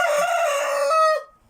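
A rooster crows once, close and loud, in a single sustained call that cuts off sharply; no voices accompany it.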